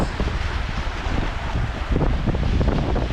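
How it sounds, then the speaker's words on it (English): Strong southeast wind buffeting a paddler on the St. Johns River amid whitecaps and two-foot breakers, a loud gusty roar with low rumbling blasts and splashy wave noise, no voices. "26-mile-an-hour winds from the southeast? Those are 2-foot breakers."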